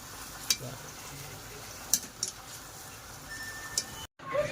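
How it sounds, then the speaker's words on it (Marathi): Onion frying on a high flame for homestyle chicken biryani, a faint steady sizzle punctuated by a few sharp clicks and taps of stirring, with a brief cut near the end. "हाय फ्लेमवरतीच त्याला तळून घेऊया"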